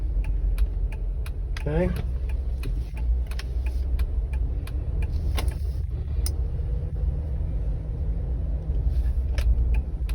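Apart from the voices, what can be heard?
Jeep Wrangler engine hesitating at low RPM while driving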